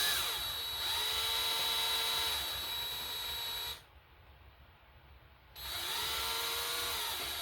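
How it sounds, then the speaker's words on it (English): Power drill boring out a broken bolt in an engine block of a 1987 Cougar with 375k miles, a steady close whine that cuts out for a couple of seconds mid-way and then resumes, with no talk. "You see my drill jumping around?"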